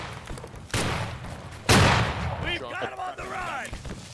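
Musket volleys ring out in the Battle Cry of Freedom video game during a Gettysburg event battle: two loud, sharp volley bursts about a second apart, followed by fainter shots and shouting voices.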